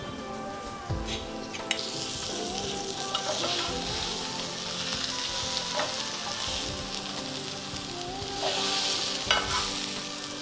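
Surmai fish frying in butter and garlic in a pan, a steady close sizzle and crackle with occasional stirring scrapes and clinks, no talking.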